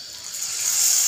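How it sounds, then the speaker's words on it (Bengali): Water poured into a pan of potato samosa filling, a short rising hiss and gush that swells over about a second as it hits the hot pan, with no talking. "দেওয়ার পরে আমি জল দিয়ে দিচ্ছি।"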